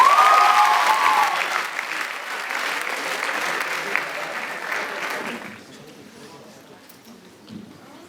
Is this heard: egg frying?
no